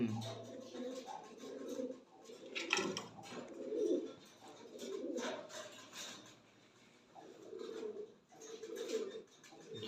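Lahori Sherazi pigeons coo in repeated soft, low bursts from close by, with rustling and some faint background noise between the calls.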